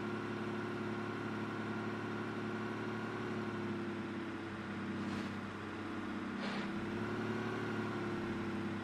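A tri-articulated bus in BeamNG.drive climbs a hill with its rear-mounted engine droning steadily at a constant loud level, with a couple of brief swishes over the hum.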